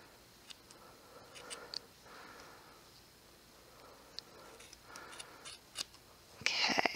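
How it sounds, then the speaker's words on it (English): Scissors snip through the yarn loops of a handmade pom-pom, faint close crisp cuts repeating irregularly over a quiet background, ending in a louder rustle. "Otherwise, you just cut every loop you come across."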